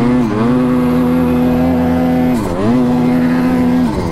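A snowmobile engine with a bogging fault runs loud and close, holding a steady drone that sags and dips twice before recovering, with no talk.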